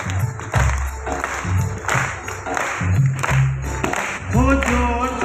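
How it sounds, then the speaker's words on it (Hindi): An audience claps at a Hindu jagran devotional night, steady applause running under music and a singer's voice, loud and close. "तालियों की आवाज"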